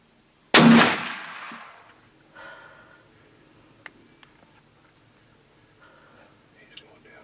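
A single loud, close rifle shot fired at a deer during a hunt in South Texas, ringing out and decaying over about a second, followed by quiet whispering and faint rustling.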